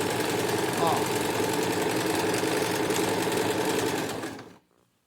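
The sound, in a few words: sewing machine stitching cushion with piping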